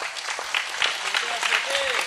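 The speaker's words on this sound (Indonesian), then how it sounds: "tepuk tangan, tepuk tangan" An audience at an Islamic religious gathering breaks into brisk clapping, a dense patter of many hands held steady throughout, with a voice sounding over it.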